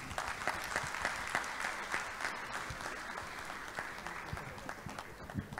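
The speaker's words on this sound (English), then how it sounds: "Another round of applause for him, please." Applause from a seated audience at the Nigerian Institute of Quantity Surveyors Lagos Chapter annual distinguished event, steady dense clapping from a hall crowd with a few sharper individual claps standing out, sustained evenly throughout.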